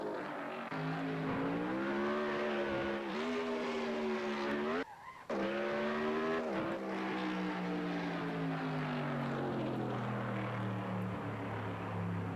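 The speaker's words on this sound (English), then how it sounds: "Listen to the difference in the audio between the outboard and the inboard" A race car engine screams past at over 300 mph, a steady high-pitched whine that dips briefly mid-pass, then winds down slightly as it continues, loud and close.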